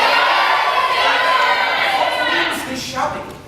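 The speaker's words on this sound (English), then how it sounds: "This shouting." A crowd shouts and cheers in a stage performance of Julius Caesar, a loud, continuous roar of many voices that thins and fades toward the end.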